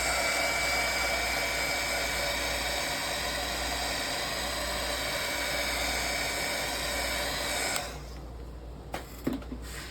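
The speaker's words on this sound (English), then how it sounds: "let's hit this with the heat." A heat gun blows steadily over a freshly poured resin piece, a loud, even whooshing roar that runs for about eight seconds, then cuts off, leaving faint handling noises.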